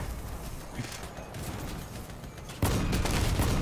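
Machine gun fire in a video game battle, a dense continuous rattle of rapid shots in a noisy scene, growing suddenly louder and closer partway through.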